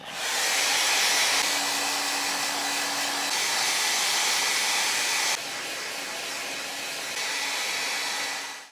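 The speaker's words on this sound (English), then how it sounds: "I'm gonna use the blow dryer" A hair dryer blows steadily and loudly up close, a continuous whooshing hum that shifts in pitch as the settings change, then cuts off.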